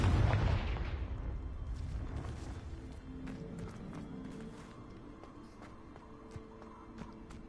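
A Confringo blasting spell in Hogwarts Legacy bursts loudly at the start, a heavy low boom that decays into a rumbling tail with scattered faint crackles and small pops afterward.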